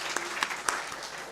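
Brief, quiet applause from a conference audience at an African regional gathering, a soft wash of clapping with a few sharper claps standing out.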